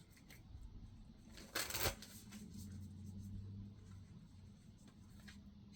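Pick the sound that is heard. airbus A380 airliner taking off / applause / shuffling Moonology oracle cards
shuffling Moonology oracle cards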